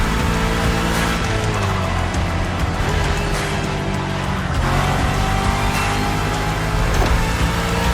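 A Shelby GT500 tuned to full power roars continuously while driving in The Crew Motorfest, its engine droning loud and close throughout, with pitch rising and falling as it shifts and accelerates.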